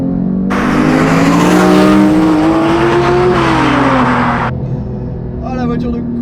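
A Porsche GT3 Touring engine revs hard through a curve with a loud, high rising and falling howl held for several seconds, then drops away. Someone speaks over it.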